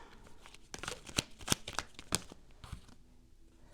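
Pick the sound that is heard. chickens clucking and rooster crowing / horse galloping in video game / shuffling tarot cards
shuffling tarot cards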